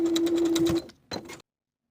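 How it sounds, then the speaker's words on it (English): A sewing machine bastes the top of a pocket to a front pant piece for elastic-waist culottes, running in a short, moderately loud burst with a steady hum, pausing, then giving one brief final run. "we're going to baste the top of the pocket to the front pant piece with about 1/4 inch seam allowance"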